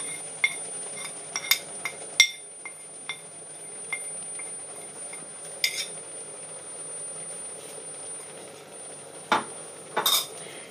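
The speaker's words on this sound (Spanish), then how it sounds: "Lo vamos a agregar y lo vamos a mezclar muy bien para que también se aromatice" A spoon stirs spices into a tamarind and plum chutney in a pot, heard as sparse metallic clinks and scrapes against the pan, with a few louder taps and a faint steady hiss beneath, no talking.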